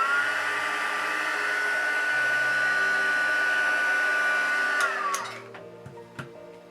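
A heat gun or hair dryer blows a steady, loud whir to heat set a crease in paper, holding an even tone before winding down near the end, followed by a few light taps.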